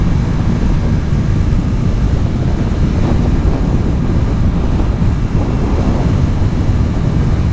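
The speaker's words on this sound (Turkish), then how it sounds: "acayip de rüzgar var" Strong wind buffets the microphone in a constant, heavy rumbling roar with no letup and no voices.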